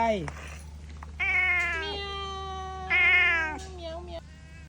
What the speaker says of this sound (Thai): น้องเหมียวชื่ออะไร